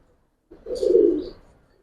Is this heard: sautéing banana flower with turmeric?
no